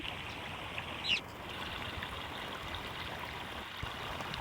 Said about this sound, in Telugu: వర్షానికి చూడండి వాగైతే ఎలా వస్తుందో బాగా అసలు దాటనివ్వట్లేదు